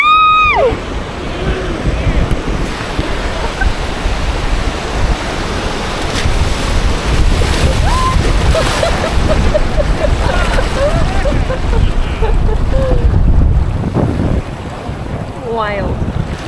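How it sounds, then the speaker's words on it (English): Strong coastal wind buffets the microphone with continuous rumbling gusts over surf, loud and steady throughout, while brief voices and a few short tonal squeaks come through intermittently. "Dang, the wind's holding us up."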